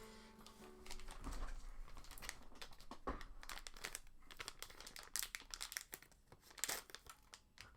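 A plastic bag holding computer cables crinkles and rustles in quick, uneven bursts close by during a PC workstation build, with no voices.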